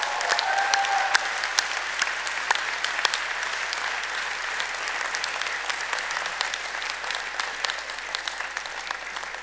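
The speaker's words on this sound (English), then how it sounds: "thank them with a mighty cheer and a round of applause" A Deakin University graduation crowd applauds steadily in a large hall, a sustained, even rush of many hands clapping with scattered sharper claps and a faint whistle early on.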